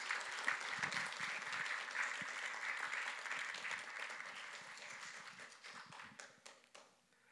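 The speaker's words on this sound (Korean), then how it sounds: "이 시간 우리 두 분을 우리 환영하는 마음과 또 감사하는 마음으로 박수로 환영하겠습니다." A church congregation claps to welcome two guest speakers at a special service, a full round of applause that swells early, holds, then thins out into scattered final claps before stopping.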